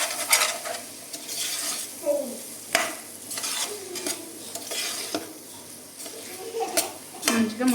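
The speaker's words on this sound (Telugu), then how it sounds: "ఇవన్నీ వేసుకొని ఒకసారి ఫ్రై చేస్తాం." Masala and spices for paneer biryani, chicken masala among them, fry and sizzle in a pan while a spoon stirs and scrapes in bursts, with occasional clinks of utensil on metal close by.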